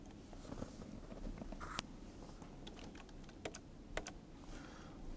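Keyboard keys clacking in scattered bursts of several presses, fairly close, over a low background hum, with no speech.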